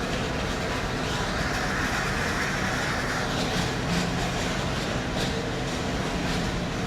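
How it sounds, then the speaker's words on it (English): A TfL Rail train pulls into London Paddington on the Great Western Main Line, giving a steady, close, broadband rumble with faint rail clatter throughout and no voices. "Got another TfL rail service coming in."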